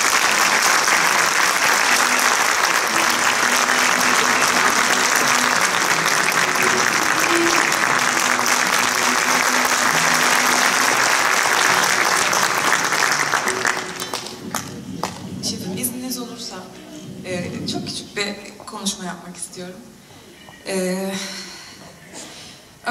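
A concert audience at a choir's special concert gives a singer a loud, dense burst of applause that runs for about fourteen seconds, then tapers off as a person starts talking through the scattered last claps.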